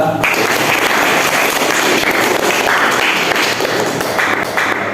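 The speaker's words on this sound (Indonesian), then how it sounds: "tepuk tangan buat Junita" Classmates clap for a student in a classroom, a loud, continuous burst of many hands lasting several seconds without a break.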